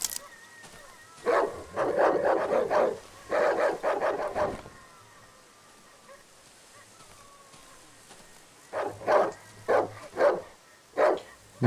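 Dogs in the survival horror game Darkwood bark in two clustered bursts, a rapid volley of loud yaps near the start, a quiet lull, then sharper scattered barks toward the end.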